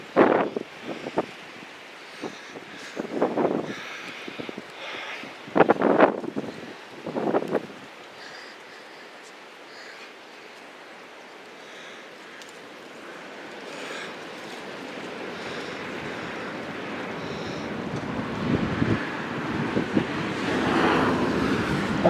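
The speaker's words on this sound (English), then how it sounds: "Wind is really blowing outside." Strong wind blows outdoors ahead of a storm, buffeting the microphone in loud gusts at first, then settling into a rushing roar that grows louder toward the end.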